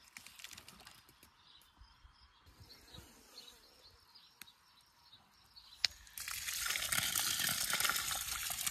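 A garden irrigation valve opens and water starts to rush steadily through drip-fed beds, a sudden hissing gush that follows a quiet stretch of outdoor ambience with a few clicks.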